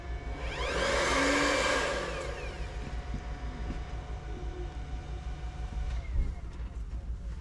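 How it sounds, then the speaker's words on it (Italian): A hair dryer runs off an ALLPOWERS portable power station, its steady blowing whine rising loud in the first two seconds, then continuing more quietly under a low hum and faint background noise. "Direi che anche la phon l'ha provata."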